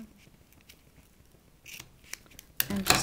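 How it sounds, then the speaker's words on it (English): Ribbon scissors snip off excess ribbon on a handmade card, a few quiet blade clicks followed by a sharper, louder cut near the end, close up with no talking. "I'm going to use my beloved ribbon scissors and cut off the excess"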